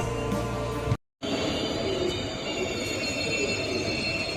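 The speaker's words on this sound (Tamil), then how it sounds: "ஈரோடு ஜங்ஷனு அப்படியே ட்ரெயின் உள்ளே என்ட்ரன்ஸ் ஆகிறத பாருங்கள்" Passenger train pulling into Erode Junction, a continuous rumble and rolling clatter of wheels on track with a brief sharp break near the start, steady and close throughout.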